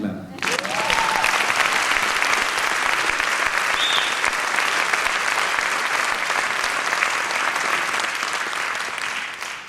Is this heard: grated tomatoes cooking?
no